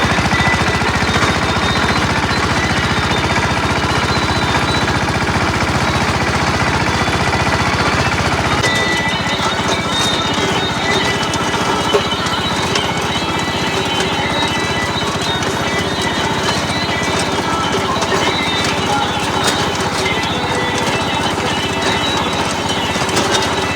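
A tractor with a cutter attachment works through a standing cotton field, a loud, constant rattling and chattering machine noise close by, with a sudden drop in low rumble partway through while the clatter continues.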